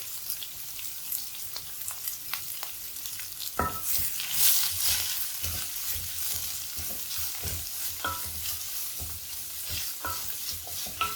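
Two chopped medium onions sauté in oil for egg curry, a soft low sizzle under repeated spatula scrapes and taps against the pan, swelling briefly louder partway through.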